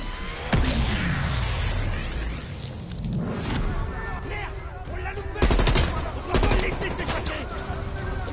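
Gunfire in Call of Duty Black Ops Cold War: loud automatic bursts and booming shots roll through the campaign action, with heavy clusters of fire late on and a voice talking over it.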